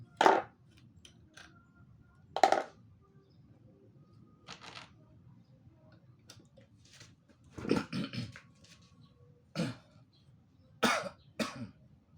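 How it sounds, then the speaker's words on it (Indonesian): Someone coughs close by in short, separate bursts, with quiet pauses between them and a double cough near the end. "maaf ya, lagi batuk ini"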